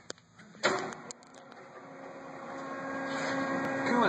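Heald Model 271 plain chuck type ID grinder with the chuck spinning up and coolant running: a steady machine whine and hum that builds in loudness, following a few sharp clicks and clunks at the start.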